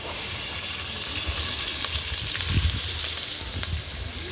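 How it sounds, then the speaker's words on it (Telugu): Onion paste, green chillies and ginger-garlic fry in hot oil with a steady, dense sizzle close by, and a few stirring scrapes break through it. "పచ్చిమిర్చి మొత్తం ఫ్రై చేసుకుందాం చూడండి."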